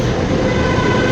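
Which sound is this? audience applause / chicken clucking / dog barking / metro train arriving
metro train arriving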